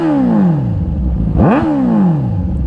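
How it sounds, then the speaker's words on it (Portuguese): A Suzuki GSX-S motorcycle with a sport exhaust roars loudly up close, revving as the engine pitch climbs, drops abruptly, then rises again into a sustained throaty drone. "se liga só o ronco dessa moto com esse escapamento esportivo"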